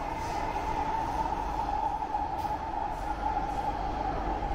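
A new metro train runs through an underground tunnel with a steady, loud, unbroken rumble and a hum, heard alone without talk.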